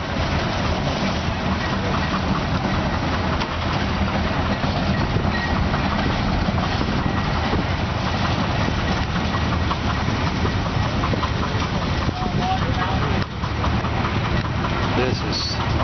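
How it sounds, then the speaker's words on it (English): A Case 110 hp steam traction engine runs at a farm show with a continuous loud, low chugging and rumble across the whole stretch, while people talk over it. "See, this is a big steam tractor."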